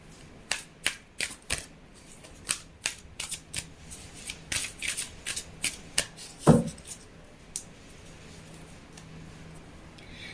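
A second deck of tarot cards is shuffled nearby in a series of crisp, riffling bursts, with short pauses between them, in a quiet room.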